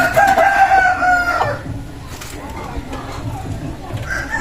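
A native rooster gives a loud, close crow at the start, followed by quieter clucking and background voices.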